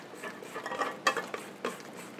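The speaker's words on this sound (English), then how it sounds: "I like to frequently scrape down the sides, making sure everything gets mixed well." Spatula scraping down the sides of a bowl of date cookie dough, giving close, uneven scuffs and a few sharper scrapes over a couple of seconds.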